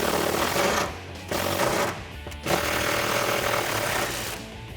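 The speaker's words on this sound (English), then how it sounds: "with the 10mm socket, we can remove those two nuts that are holding the bracket onto the stud" Two nuts holding a bracket to a stud on a Jeep Wrangler JK 4-door come off with a 10mm socket, giving loud, rapid ratcheting bursts with brief breaks between them.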